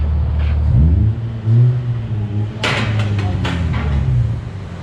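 Hyundai Tiburon fitted with new twin exhausts revs up twice, a deep, loud throaty rise and fall close by, with a sharper crackling burst of revs midway before settling back to a rumbling idle.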